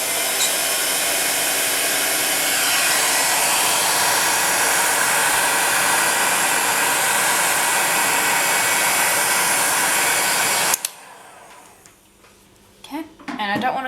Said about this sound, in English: when you're using a heat gun, I find that it's good to leave it for about 5 seconds on before you bring it near the clay